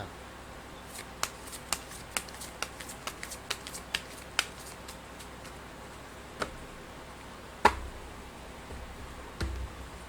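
Fortune-telling cards are shuffled and handled quietly, giving a quick run of soft, crisp flicks and taps, then a few sparser clicks and a slightly louder slap near the end.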